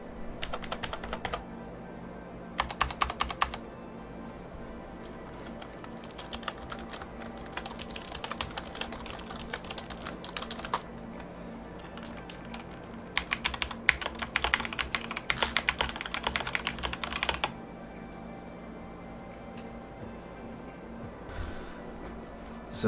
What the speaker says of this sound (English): here's a quick audio test side by side with a standard mechanical keyboard.